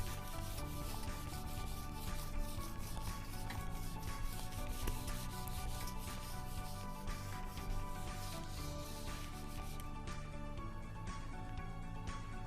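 Steady, continuous rubbing of an eraser or duster across a classroom board, wiping away written work in long, even strokes that stay close and fairly loud for the whole stretch, with no one talking.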